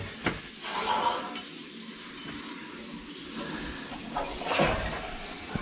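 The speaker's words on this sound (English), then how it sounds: "Let the water run, gotta have some air in the lines." Water rushing through recirculation plumbing lines just repaired with a Milwaukee M12 press tool, a steady hiss with sputters of trapped air, growing louder near the start and end, with faint voices in the background.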